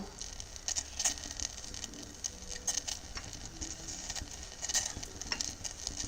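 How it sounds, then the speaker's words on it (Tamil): Faint, irregular ticking and soft crackling patter of small bubbles as water begins to heat for hibiscus tea, quiet and close with no talking. "இப்போ தண்ணி வந்து கொஞ்சம் கொதிக்க ஆரம்பிக்குது"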